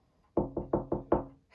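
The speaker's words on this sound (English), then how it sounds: "Jack decided to knock on the door." Five firm knocks on a large door, evenly spaced and close, each a sharp hollow thud with a short decay. No one speaks.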